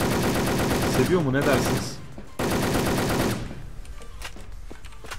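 Rapid automatic fire from the Viper gun in the video game Wolfteam rattles loud and close for about three seconds, then cuts off, followed by quieter scattered shots and game noise while someone talks over it.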